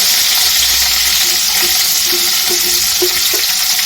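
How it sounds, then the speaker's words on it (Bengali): Chopped onions fry loudly in hot oil already used for garlic, a dense, constant crackling sizzle up close with faint stirring scrapes throughout. "রসুনটা ভেজে নেওয়ার পরে ওই একই তেলে আমি দিয়ে দিচ্ছি কুচি করে রাখা পেঁয়াজগুলো"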